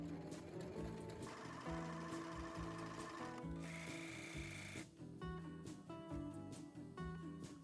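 Sewing machine stitching a small pocket seam on a trouser garment, a close, continuous rapid mechanical whir with a steady pulsing needle rhythm, briefly dipping near the end.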